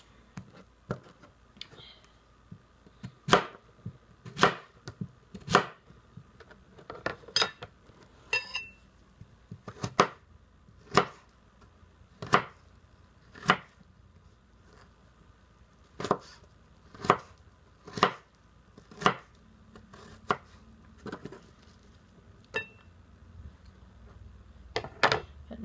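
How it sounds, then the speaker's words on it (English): A knife slices a cucumber into quarter-inch slices on a cutting board, giving sharp, distinct chops at a steady, unhurried pace, about one every second, close and clear. "I'm just going to chop the cucumber."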